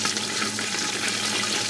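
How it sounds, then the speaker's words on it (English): Water boiling in a pot while cannabis oil is made, giving a steady, dense bubbling hiss that runs unbroken and fairly close for the whole moment. "what you're actually seeing in there is water boiling"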